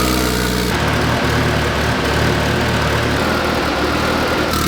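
A Mitsubishi Evo 9 engine roars on a dyno, the sound loud and close, shifting from a lower note into a sustained harsh, full-throated drone that holds to the end.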